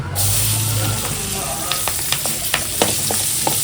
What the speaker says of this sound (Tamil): பட்டரில் இப்போ அந்த பட்டை அந்த ஏலக்காய் போட்டுட்டு இந்த க்யூப் சைஸ் பண்ண ஆனியன்ஸை போட்டு சாட்டே பண்ணலாம்